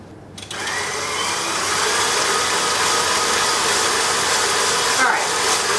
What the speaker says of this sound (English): We'll beat that in.